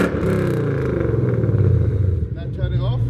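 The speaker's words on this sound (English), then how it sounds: "Alright, go on, give it a rev, son." A Ford Mustang GT engine revs in a low, steady rumble with rising and falling throttle, heard close and loud over the idle. People talk over it.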